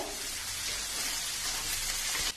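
Chopped onion fries in a kadai pan, giving a faint, even sizzle throughout with a light crackle, no talking.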